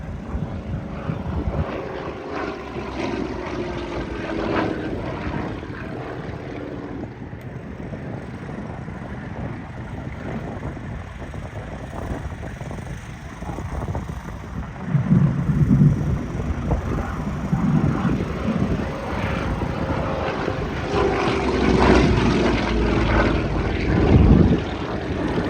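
A Yak propeller aircraft flies at an airshow, its engine producing a continuous droning roar that swells and shifts as the plane passes, with no talk over it.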